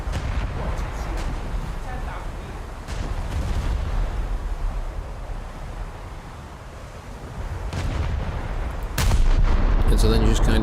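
Naval guns boom in War Thunder, heavy blasts landing at intervals under a constant rumble of rain and sea, with a loud burst near the end; someone talks over the battle.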